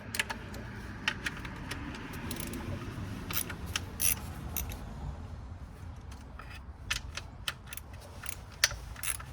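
A socket wrench turned by hand on the starter bolts of a BMW 3 Series, with repeated ratcheting clicks and metallic clinks over a low rustling background, close and moderately quiet.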